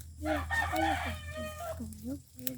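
A neighbour's rooster crows in a long, wavering call at close range, with clucking fowl audible around it and a steady low hum underneath.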